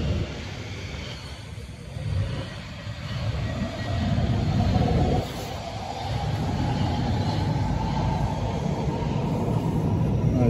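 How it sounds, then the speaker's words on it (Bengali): A metro train pulls away from a snowy, remote station in Belgium on a winter morning, a rising rumble of wheels and motors swelling then holding steady and fairly loud. "আর নিচটা হচ্ছে মেট্রো স্টেশনে, এই দুটো মেট্রো দাঁড়িয়ে আছে পরপর।"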